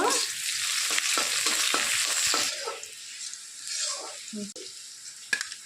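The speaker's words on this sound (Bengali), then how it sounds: "দেখুন তেলটা গরম হয়ে গেছে কুচানো পেঁয়াজ দিয়ে দিলাম লঙ্কা দিয়ে দিলাম একটু" Chopped onion and green chilli hit hot oil, crackling loudly at first, then the sizzle fades as a utensil stirs and taps the pan in scattered strokes.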